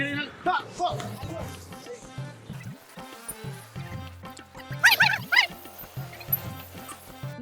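Several dogs bark and yip in short bursts, with a higher yelping cluster midway, while a person talks over them nearby.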